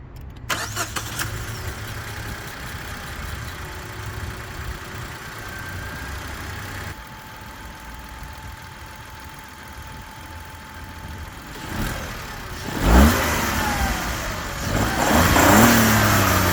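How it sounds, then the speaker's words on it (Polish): A 2025 Suzuki Swift 1.2 DualJet mild-hybrid three-cylinder engine idles with a steady, slightly uneven hum, then revs up briefly toward the end. "I tak ten silnik teraz pracuje."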